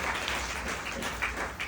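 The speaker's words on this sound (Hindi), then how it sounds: "तो मैं चाहता हूं सभी लीडरों के लिए एक शानदार ताली हो जाए।" An audience at a business-plan meeting claps for its leaders, a dense, continuous wash of applause from many hands, fairly close and steady through the short burst.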